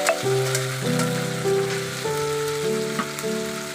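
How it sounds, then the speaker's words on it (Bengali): A paste of ground onion, ginger and cumin, added with nigella seeds, fries in oil while being stirred, giving a steady close sizzle with soft scraping, over a sustained tonal background drone. "ওই তেলের মধ্যেই কালো জিরে দিয়ে একটু নাড়িয়ে তাতে পেঁয়াজ বাটা, আদা বাটা, জিরে বাটা 3টে দিয়ে দিলাম, দিয়ে নাড়িয়ে নেবো ভালো করে।"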